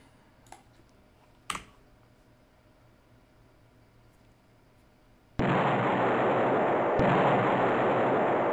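A rocket fires in the WinSPMBT wargame: after a few faint clicks and a sharp pop, a loud, sustained roaring hiss bursts in and holds steady to the end, with a second jolt partway through.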